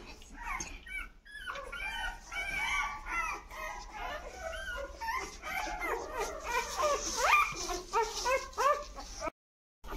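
Many eight-day-old Labrador puppies whimper and squeak continuously while nursing, a busy cluster of tiny yips and whines close by, ending in a brief silence.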